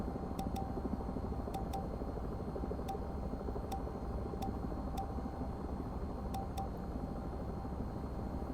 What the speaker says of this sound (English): We'll wait till the blades are spinning a bit faster.